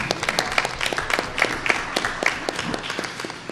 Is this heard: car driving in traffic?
no